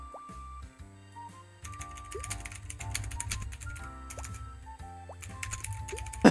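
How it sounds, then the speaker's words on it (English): Rapid, vigorous clicking on a computer keyboard goes on in dense bursts beneath bright, tonal game music and effects. "I can hear you typing vigorously."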